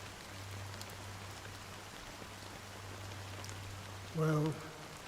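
Steady soft rain falls in the Honkai Star Rail video game, a continuous even hiss throughout with a brief tonal chime near the end.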